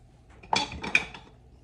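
Two quick clinks of a lid being set onto a slow cooker, a short metallic-ceramic knock followed by a second lighter rattle, close up in a quiet kitchen.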